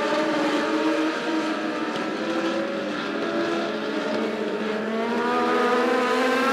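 Super stock race cars roar around a dirt track in a feature race, a continuous layered engine drone from several cars that swells and rises in pitch toward the end, with no voices.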